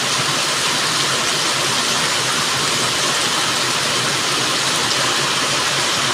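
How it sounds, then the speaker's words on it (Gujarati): Heavy rain pours down at night in a steady, dense hiss that stays loud and unbroken throughout, with no voices. "અત્યારે અંધારું છે એટલે વરસાદ આંગળી આંચે દેખાય છે ઓછું, પણ વરસાદ સારો પડે છે."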